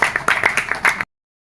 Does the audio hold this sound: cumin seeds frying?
no